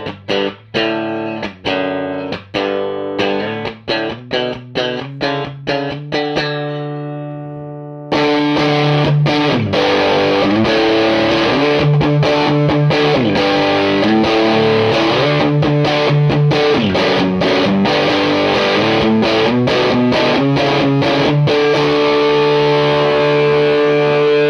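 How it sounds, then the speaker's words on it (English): Electric guitar driven through a Lotus Pedals Red Overdrive pedal with the gain cranked: a few spaced picked notes, then a pause, then loud, saturated continuous chords and riffs with no talking. "So there you can hear the Lotus Red Overdrive"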